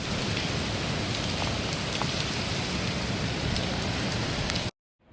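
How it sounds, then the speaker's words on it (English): Heavy rain pours down steadily in a hurricane-like storm in Guilford County, a dense, loud hiss of drops on surfaces that cuts off abruptly near the end, with no speech. "It's raining cats and dogs, literally."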